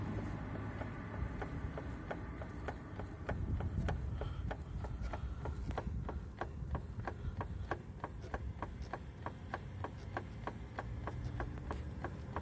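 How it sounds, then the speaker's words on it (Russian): Repeated sharp knocks come from the differential area of a Renault Megane 2, ticking at a steady rhythm over a constant low rumble, with a brief swell of noise from passing traffic partway through. "из района дифференциала раздается примерно такого рода стук"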